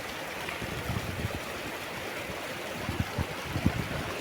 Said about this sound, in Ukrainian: Бурлить, водичка.